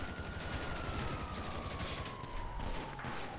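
Dense, continuous rapid gunfire from a police shootout in the video game GTA 5, loud and sustained throughout with a faint rising siren-like tone running underneath.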